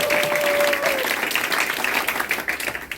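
Loud, sustained applause from a crowd at a Liberty Unification Party (자유통일당) youth committee launch and appointment ceremony, dense clapping filling the room, with a brief tone and faint voices underneath.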